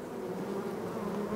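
Honey bees drone at a beehive, a close, steady buzzing hum that holds at an even level throughout with no talking.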